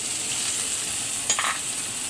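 Fish dropped into a hot frying pan after the chili has been sautéed, giving a short burst of sizzling over a steady background hiss, fairly close and brief.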